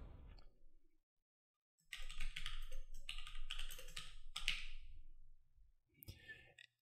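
Rapid keystrokes clatter on a computer keyboard, close and fairly quiet, in two bursts separated by a brief pause, after a moment of silence.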